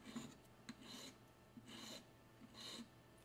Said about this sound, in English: Now we're gonna go with buff stick.